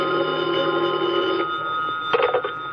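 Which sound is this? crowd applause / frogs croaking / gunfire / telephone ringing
telephone ringing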